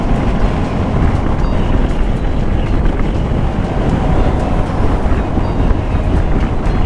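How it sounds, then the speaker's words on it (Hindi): Strong wind roars steadily across the microphone on a high mountain road between Leh and Kargil, a loud, unbroken rumble throughout with no voices. "वाह क्या हवा चल रही है"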